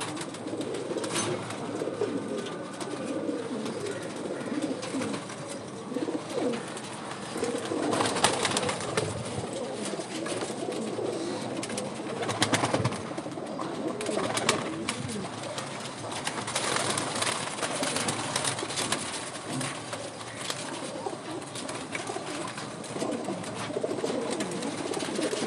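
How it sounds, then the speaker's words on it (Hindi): Bajrai pigeons cooing softly and repeatedly, low rounded coos overlapping at moderate distance with faint background ambience and no talking. "तो ये कबूतर बाजराई कबूतर है,"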